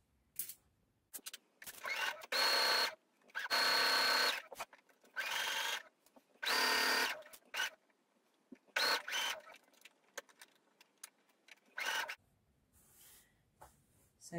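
A sewing machine stitches the side seam and pocket of a dress, running forward and back in several short bursts of rapid whirring, separated by pauses and light handling noises, close by.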